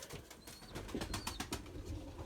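Purebred Erzurum white pigeons coo, with rhythmic pulses and light flutters, close over a steady noisy background.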